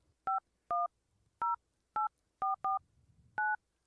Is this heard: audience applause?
no